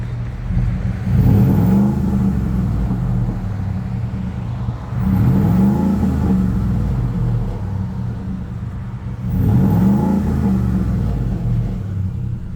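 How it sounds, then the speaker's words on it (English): A 2017 Ford F150 pickup with 121k miles, heard from the front, is revved three times in quick bursts. Each rev rises to about 3,000 RPM, then falls back to a low idle rumble, loud and close, with no talk. "let's give it some quick revs"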